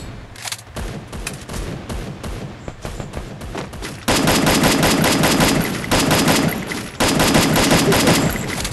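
Rapid video-game gunfire, sustained bursts of automatic shots crackling loudly and densely, growing heavier partway through with brief pauses between volleys.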